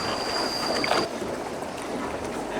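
A small boat gliding toward a cave in Ninh Binh, a soft continuous wash of water and breezy rustle, close and fairly quiet, without talk.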